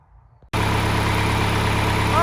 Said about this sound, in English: Tractor fired right up, I mean, like instantly.